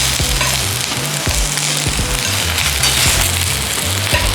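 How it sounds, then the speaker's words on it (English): Vegan chicken sears in oil in a hot pan with loud, continuous sizzling and frying. Occasional stirring and scraping knocks come through. The sound is close, and no one speaks. "So I'm gonna sear it until it's crispy on the outside."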